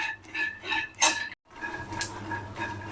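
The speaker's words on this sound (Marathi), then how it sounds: "हे शेंगदाणे आपण चांगले खरपूस भाजून घेऊया" Peanuts being dry-roasted in a pan over medium-low gas flame and stirred with a spatula, producing close scraping and light rattling clinks in uneven strokes with a brief pause partway, no voices.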